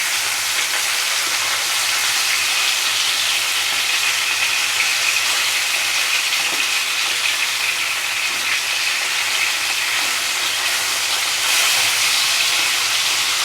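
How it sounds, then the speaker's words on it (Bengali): Pomfret fish fry lightly in hot oil, giving a constant, loud, close sizzling hiss that barely changes throughout. "মাছগুলোকে আমি হালকা করে ভেজে নেব।"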